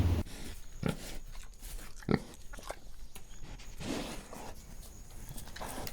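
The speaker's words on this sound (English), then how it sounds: "We're gonna go get that pig right now." A pig grunts and snorts in a short series of irregular, fairly faint bursts, heard against steady background noise with scuffling and clopping.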